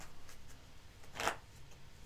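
A deck of cards is shuffled by hand for a live giveaway draw, a single brief riffle burst, close and quiet, with no talking.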